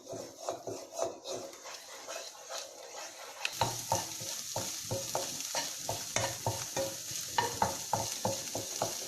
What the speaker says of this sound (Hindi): अभी इसका हम स्क्रैम्बल एग तैयार कर लेंगे।